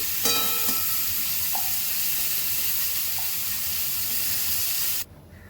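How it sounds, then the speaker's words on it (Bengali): Prawns frying in hot oil in a home kitchen, a steady broadband sizzle with a few spits and pops, close and continuous before cutting off abruptly near the end. "এবার চিংড়ি মাছগুলো ভেজে নিচ্ছি।"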